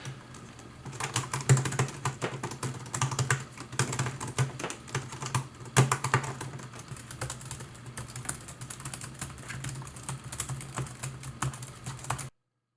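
Steady, rapid typing on a 2018 MacBook Pro's low-travel keyboard, hard, sharp clicky keystrokes in a dense continuous rhythm, close and clear with no talk, ending abruptly.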